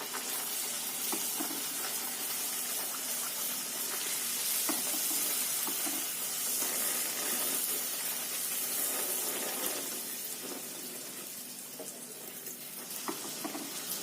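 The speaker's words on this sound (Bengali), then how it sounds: "হয়ে এসছে ভাজা।" Lentil-stuffed bedmi poori frying in a kadai of hot oil gives a steady, dense sizzle with light stirring clatter, constant throughout and fading slightly near the end, with no talking.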